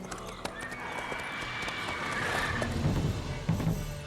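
Roach, the horse in the video game Witcher 3, gives a snort over steady clip-clopping hooves, with a sustained whinny-like tone and continuous game ambience throughout.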